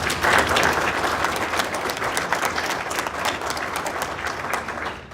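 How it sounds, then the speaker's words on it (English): An audience at an energy forum applauds steadily after a round of applause is called for. The clapping is full and continuous throughout and tapers slightly at the end. "maybe we can all give them a round of applause"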